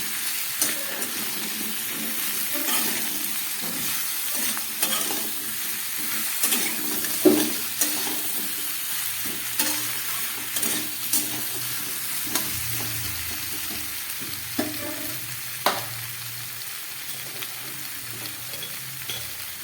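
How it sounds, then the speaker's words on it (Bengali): Chopped vegetables are stir-fried in a spice mixture for Bengali chhyachra, with a steady low sizzle broken by repeated spatula scrapes and knocks against the pan at an uneven rhythm. "এবারে এই কেটে রাখা সবজিগুলো আমি এই মশলার মধ্যে দিয়ে খুব ভালো করে কষাবো।"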